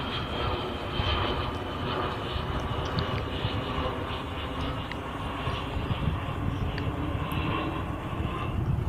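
A fixed-wing airplane passes overhead near Miami Gardens, its engine drone a steady, continuous low roar that stays fairly loud and even across the whole stretch with no voices.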